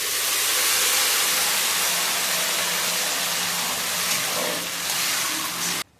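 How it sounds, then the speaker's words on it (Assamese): Tomato puree hits a pan of fried onion, garlic and ginger, producing a loud, broad, continuous steamy hiss that stays close and even before cutting off abruptly at the end, with no voices. "পিঁয়াজ, নহৰু, আদা ভালদৰে ভাজি হৈ যোৱাৰ পিছত বিলাহীৰ পিউৰিটো দি দিছোঁ"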